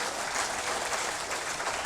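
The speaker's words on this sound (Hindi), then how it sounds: "और एक बार जोरदार तालियां" Dense, even applause from an audience fills a conference hall at a national sports conference, a continuous wash of clapping with no break or voices.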